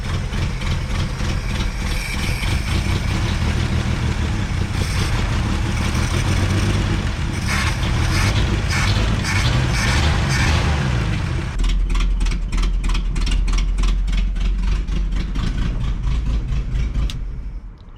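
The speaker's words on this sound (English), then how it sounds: "Oh, she idles down low." An old abandoned 1964 Ford F100 farm truck runs with a loud, rough engine, first revving, then dropping into a low, pulsing idle that continues steadily to the end.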